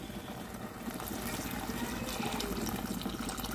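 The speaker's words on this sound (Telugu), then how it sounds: "వాటర్ వేసుకుందామండి." Water poured into a pan of tamarind-leaf and raw prawn curry makes a soft, steady pouring and trickling sound, close but quiet, with no talk.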